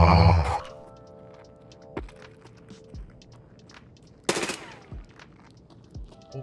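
A double barrel shotgun fires in a video game, with sharp isolated blasts spaced about a second apart and one loud crack midway, over a quiet background hum.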